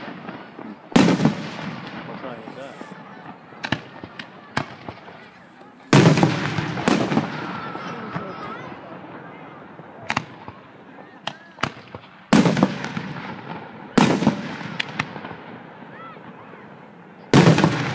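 Several loud, sharp fireworks bangs burst at irregular intervals, each ringing out with crackle, while people talk quietly in the background.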